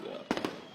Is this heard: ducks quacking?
no